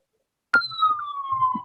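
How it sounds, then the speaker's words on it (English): An ambulance siren wails in the background, starting abruptly and holding a steady, gliding tone for over a second at moderate distance. "Sorry for the ambulance in the background"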